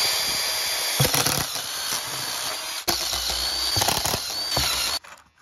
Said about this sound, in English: of each one where the gauges are going to drill a hole there so we can put the wiring for your gauges